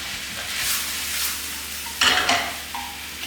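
Thick-sliced onions and pork kimchi sizzle in a frying pan under a constant hiss. A few quick stirring scrapes and clatters cut through the frying noise near the end.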